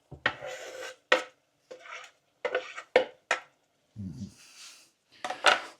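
Fried onions are stirred in a pot at home, a spoon making short, separate scraping and clinking strokes against the metal, close and moderately loud, with quiet gaps between them and no voices.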